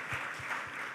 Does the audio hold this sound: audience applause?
yes